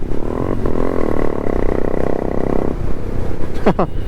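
A KTM motorcycle races along a road in Bangalore, its engine note droning steadily for a couple of seconds before dropping away, with voices talking over the traffic noise.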